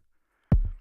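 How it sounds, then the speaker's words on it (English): A single deep electronic kick drum hit from an Arturia DrumBrute drum machine, punchy with a booming low tail, alone in silence. "what you're hearing right now is the kick coming straight out of the DrumBrute."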